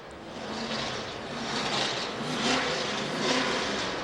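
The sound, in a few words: NASCAR number 22 race car engine revving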